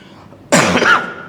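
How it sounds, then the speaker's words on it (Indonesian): A single sharp, throaty cough bursts out close by after a moment of near silence, then trails off. "mohon maaf saya agak batuk ya"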